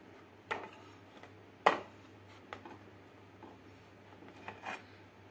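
A cake batter pan being set on a plate inside a kadai for stovetop baking, giving a few light metallic clinks and knocks, one louder clank among quieter taps in a quiet room.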